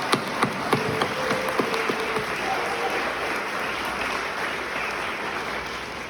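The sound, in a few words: parents' applause for graduates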